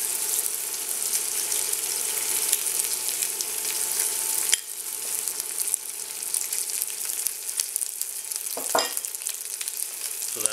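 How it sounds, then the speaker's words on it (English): Tomato paste frying in a pot for Greek stifado, with a steady bright sizzle and crackle throughout, a few scrapes and clinks of stirring, close and continuous, with no voices. "now we're gonna add our tomato paste. Cook that off a bit to get rid of"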